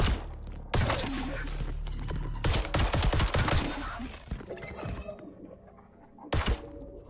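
Gunfire in the shooter video game The First Descendant, loud sustained bursts of rapid weapon fire in several stretches with brief pauses, a final short burst near the end, dense and close with mechanical clatter.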